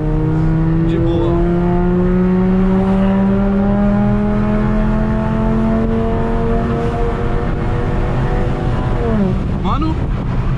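A VW Jetta with a five-cylinder engine and straight exhaust accelerates, its loud engine tone climbing steadily through a long gear before dropping sharply at a shift, with wind rush and people talking inside the car.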